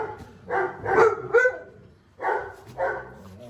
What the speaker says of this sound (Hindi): शैडो तो बाहर से भौंक रहा है